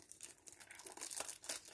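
Crinkly plastic wrapping on a cosmetics parcel being torn open by hand, a series of quiet close crackles and short ripping bursts with a sharper tear near the end.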